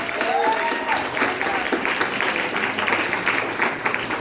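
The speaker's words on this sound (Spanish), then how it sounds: "Un aplauso para esos héroes en la fe" A church congregation gives sustained, dense applause that holds steady and loud for several seconds, with some voices mixed into the clapping.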